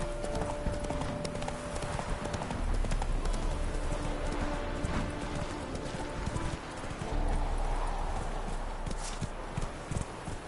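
The horse Roach from The Witcher 3 gallops with rapid rhythmic hoofbeats on ground, loud and close, with a faint whinny and game ambience around it.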